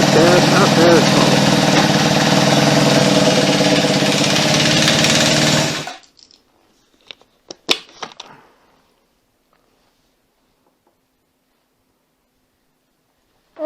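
Kawasaki KZ400 street tracker cafe racer motorcycle engine running loud and steady for about six seconds on a first ride, then cutting off abruptly, leaving near silence broken by a few faint clicks and knocks.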